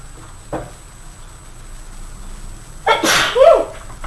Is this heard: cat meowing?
no